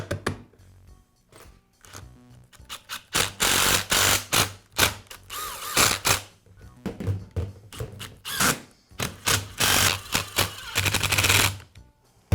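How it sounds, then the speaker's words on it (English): A Milwaukee reciprocating saw gearbox is refitted during a wobble plate repair, giving a series of close mechanical clicks, taps and ratcheting rattles in uneven bursts with quiet gaps between them. "And now I'll reinstall the gearbox"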